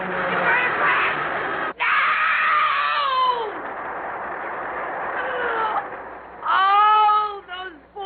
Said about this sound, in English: And the screams. All those screaming people.